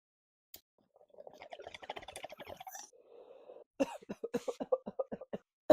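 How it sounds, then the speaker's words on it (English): A person coughs repeatedly after smoking, with a burst of rough coughs followed by a rapid series of sharp, close coughs and a throat-clearing rasp in an otherwise quiet room. "I think I'm done coughing."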